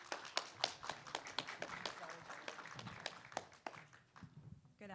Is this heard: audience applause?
yes